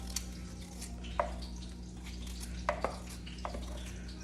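Knife slicing potatoes into bite-size pieces for a home breakfast, giving a few sharp cuts against a board, fairly close, separated by pauses, over a low steady kitchen hum.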